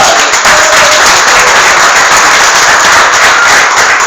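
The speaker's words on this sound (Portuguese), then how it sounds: "Se você faz parte, dê uma aplauso ao Senhor." A church congregation breaks into sustained, loud applause, a dense wash of many hands clapping evenly throughout with no voices standing out.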